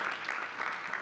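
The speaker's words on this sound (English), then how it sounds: "I think we need to clap hands for her." An audience at a girls' education conference claps briefly in a soft, even patter, faint and somewhat distant, with no voices over it.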